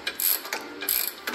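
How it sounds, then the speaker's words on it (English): A ratchet wrench tightens bolts during a turbo Mustang build in a home shop, making close, loud, rapid clicking in three quick bursts. "Now when we're bolting this up, you gotta go on one side and then go the other."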